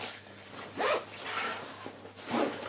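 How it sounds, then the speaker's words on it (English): A zipper drawn shut on a backpack case, two or three quick close rasps in a quiet room, fairly faint and alone. "zip that up"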